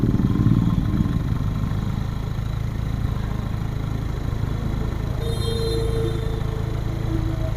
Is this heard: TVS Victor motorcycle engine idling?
yes